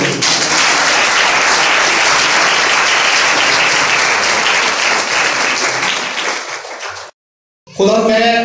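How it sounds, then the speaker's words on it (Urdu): Loud applause from a church congregation at an evangelist's gathering: dense, sustained clapping that fills the room for several seconds, then fades and cuts to silence before a voice resumes. "زوردار تالیاں بجائیں گے"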